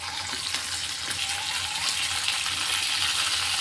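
Onions and garlic frying steadily in a pan for a Tamil white-garlic tamarind curry, a continuous close hiss and sizzle at even loudness with no talking.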